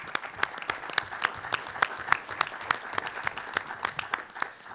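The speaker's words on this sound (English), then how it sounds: "I want to just start off by extending a round of applause to all of those who have" Applause at a school board candidate forum from a small audience: individual hand claps stand out in an uneven, sparse rhythm over a softer bed of clapping, moderately close and without talk.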